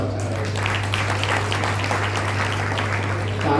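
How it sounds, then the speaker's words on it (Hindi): A crowd at a religious gathering of saints honoring Tulsidas Jayanti in a hall claps continuously, a broad steady wash of applause over a low constant hum. "ताली को बजा दिया।"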